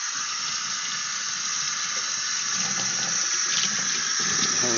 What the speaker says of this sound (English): let me rinse this off so there's no trace chemicals for the police to find